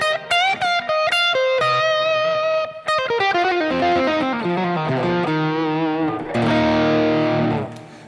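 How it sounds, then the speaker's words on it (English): Electric guitar playing a solo through a Fender amp with a BB preamp, light delay and reverb, distorted sustained lead notes with bends and descending runs, loud and alone. "So that guitar sound, I got a little bit of delay, a little bit of reverb."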